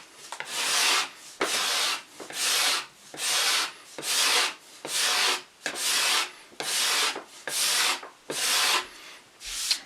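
A hand scraper dragged across wooden joints on a cabinet, about eleven rhythmic, evenly spaced rasping strokes, each a close, bright scrape followed by a short pause.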